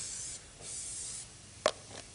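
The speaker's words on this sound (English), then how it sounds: "Do you use the oil in there, the spray oil, or not?" Non-stick oil is sprayed into a Belgian waffle maker in a TV kitchen in a few soft, airy hissing bursts, followed by a brief sharp click or tap near the end.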